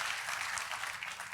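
A church congregation claps together during an Indonesian-language worship service, a brief burst of steady, dense applause filling the room at an even level.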